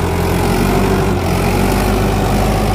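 Mahindra 475 DI XP Plus tractor diesel engine running steadily at 1600 RPM, a loud, continuous low throbbing drone with no talk over it.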